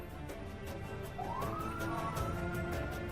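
A police car siren wail rises and holds over steady traffic rumble, moderately distant, with no voices.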